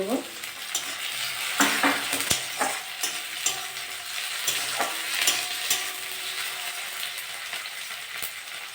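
Onion and green chilli with tomato frying in a pan give a steady close sizzle, with stirring scrapes and spoon knocks breaking through along the way.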